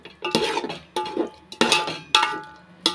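A spoon stirring brinjal biryani masala with water in a metal pot, then a plate set on top: five rhythmic scraping, clinking strokes, close and fairly loud, with no voices.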